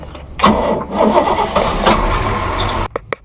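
A boat engine cranks and catches after a replacement ignition coil is fitted, a brief churning start rising into a steady running drone, then cut off with a few short bursts near the end.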